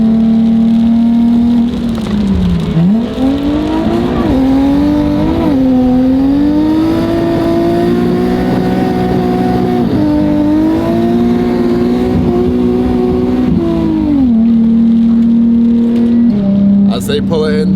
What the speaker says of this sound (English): So it looks like the clutch is slipping in third gear.